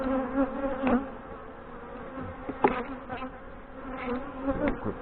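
Steady buzzing of many honey bees close by inside a hive, a dense droning hum with a few louder passes and faint knocks, no talking.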